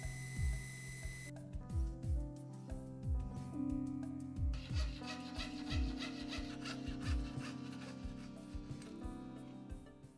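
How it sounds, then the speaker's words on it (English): Machined metal lip pieces for a stop-motion head armature being ground into a rounder shape, giving a steady abrasive rasping with repeated short strokes and scrapes, close and moderately loud, no talking. "I decided to grind them into a more organic form in order to provide a better grip to the silicone"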